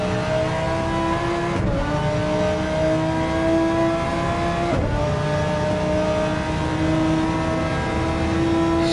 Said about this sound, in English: So now we're on board Sean in the Audi.